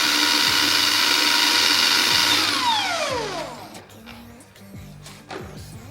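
A polishing pad spun dry on a car-detailing polisher: a loud, steady whirring, ratcheting mechanical drone that winds down with a falling pitch, then gives way to a few light knocks and handling sounds.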